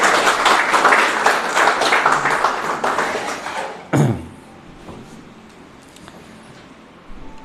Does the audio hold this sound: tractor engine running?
no